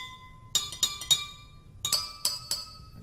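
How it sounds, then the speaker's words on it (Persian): Drinking glasses partly filled with water are struck, giving bright ringing clinks in two quick groups of four, each note sustaining briefly, alone in a quiet room. "یک سطحی از آب رو توی این لیوان ها میریزه."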